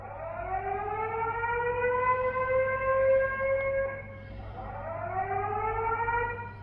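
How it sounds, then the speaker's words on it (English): Air raid siren tone from a Xiaomi gateway home alarm, slow rising and falling civil defense wail that climbs, holds, dips briefly near the middle and rises again, loud and steady indoors with no voices. "I prefer the air raid alarm."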